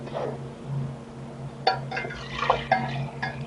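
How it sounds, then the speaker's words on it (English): Liquid pours steadily in the background, with faint glassy clinks and clatters of a container scattered through the pour during an off-road Jeep trip. "in the background you can hear me pouring some"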